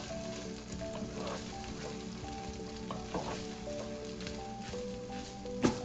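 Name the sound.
ginger and garlic paste frying and being stirred in a pan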